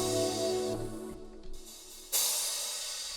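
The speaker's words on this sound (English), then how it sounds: "I did my standard of a reverse cymbal." A reversed cymbal sample from the Battery drum library, a swelling wash of bright noise that fades and thins before a sudden loud cymbal burst near the end, then a slow decaying shimmer, with no voices.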